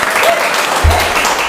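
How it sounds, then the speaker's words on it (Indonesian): A short, loud burst of applause from a young audience at a university biology-education program presentation, with dense clapping filling the whole moment. "tepuk tangan."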